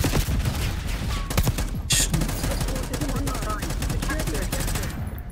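Sustained bursts of rapid automatic gunfire from Call of Duty Black Ops 6 multiplayer, dense and loud with sharp individual shots and a few heavier cracks, continuing throughout with faint voice in the mix.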